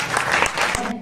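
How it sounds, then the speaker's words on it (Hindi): Loud, close applause from an audience at an Urdu drama performance, dense clapping filling a short burst without any voices. "जोरदार तालियों के साथ जनाब जफर मोइनुद्दीन।"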